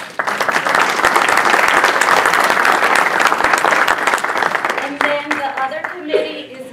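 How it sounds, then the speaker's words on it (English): An audience at a community event claps for committee members, a loud sustained round of applause that fades into scattered claps as a voice begins speaking. "So could we please clap?"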